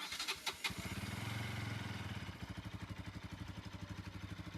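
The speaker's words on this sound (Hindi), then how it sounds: "बाइक को पहले कोल्ड स्टार्ट करते हैं।" Motorcycle cold-started in Kathmandu: a few cranking bursts catch into a rising engine roar, then settle into a steady, pulsing idle close by.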